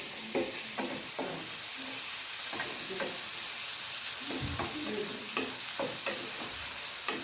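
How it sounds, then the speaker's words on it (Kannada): Frying and stirring in a pan while making vermicelli upma, a steady close sizzle with repeated scraping stirs and a few light taps, no talking. "ನೋಡಿ ಇವಾಗ ಫ್ರೈ ಆಗ್ತಾ ಇದೆ"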